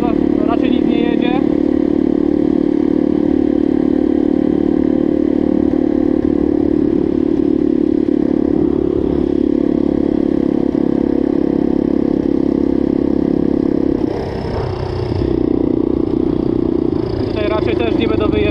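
A pit bike engine idles and runs steadily at low speed on a slow lap, close and constant throughout with a brief dip in pitch near the end, with a voice talking over it.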